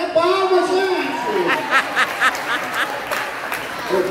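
Comedy show audience clapping in a brisk burst after a short stretch of talk, with chuckles and scattered voices in the crowd, the applause moderately loud and close.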